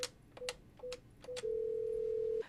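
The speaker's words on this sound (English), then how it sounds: "The phones are ringing" Office telephones in a busy Florida county health department sound several short electronic beeps, followed by one long steady tone, fairly quiet and close, with no talking.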